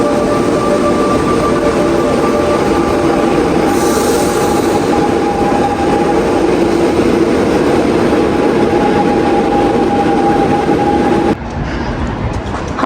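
A metro train rolls through an underground station with a loud, steady rumble of wheels on rails and a sustained tonal whine, then the noise drops abruptly near the end.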